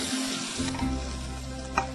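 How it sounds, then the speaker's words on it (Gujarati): Green beans and carrots sautéing in a pan, a steady close sizzle with a single sharp utensil tap near the end. "હવે આને સાંતળી લેવાનું"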